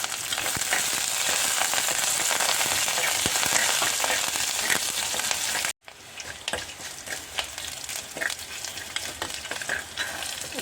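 Bay leaves frying in hot oil in a pan for Kerala varutharacha injipuli, a loud continuous sizzle that cuts out briefly, then returns with crackling pops and stirring scrapes.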